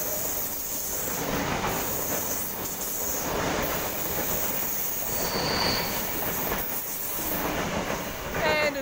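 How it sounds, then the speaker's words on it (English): A Sydney Trains S set pulls into Stanmore station, a steady loud rumble of wheels and carriages with faint squeals, close and continuous with no speech. "And an S set arriving."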